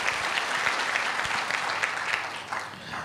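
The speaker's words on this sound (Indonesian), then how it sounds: "Yang setuju tepuk tangan buat Yesus" Church congregation at a morning prayer service bursts into applause, a dense steady wash of clapping that holds evenly before thinning slightly toward the end.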